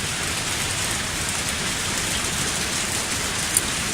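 Steady, dense video-game rain hisses without letup, a broad wash of drops striking surfaces, with no voices.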